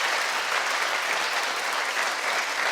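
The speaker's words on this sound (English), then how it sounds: "Clap if you agree with that." A studio audience claps in a dense, uniform burst of applause, close and fairly loud, with no talking.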